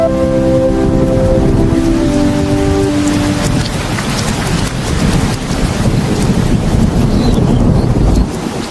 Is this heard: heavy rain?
yes